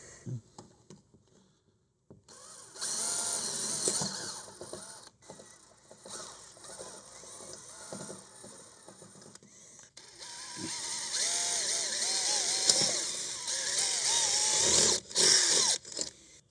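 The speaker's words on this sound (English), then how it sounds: "what I'm gonna do is just try to drill through those two holes" A power drill bores bolt holes through a half-wall frame during a SimBooth 2 installation, a close, sustained grinding whine with a wavering motor pitch in two long bursts separated by a brief pause, with no talking.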